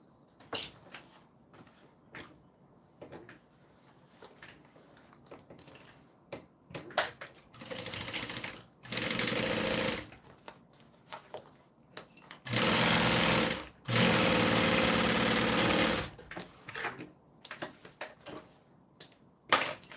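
A sewing machine stitching a bag runs in two long, loud, steady bursts with shorter runs before them, while quiet fabric handling and clicks fill the gaps.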